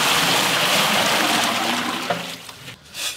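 Water pours steadily into a large pot for layered mutton biryani, a loud close rushing gush that eases off near the end.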